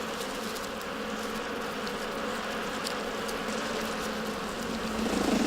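Bees humming inside a hollow tree colony in Korea, a steady dense buzz from many insects close by, some fanning their bodies to warm the brood, continuous and unbroken throughout.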